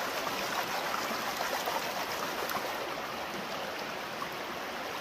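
Water swirls and washes steadily through a gold pan while panning sandy material, a faint continuous rushing with a few small splashes.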